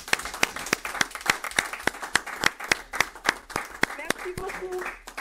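An audience claps at a religious broadcast event with a rapid, irregular patter of hands, fairly close, while voices speak and cheer over the applause.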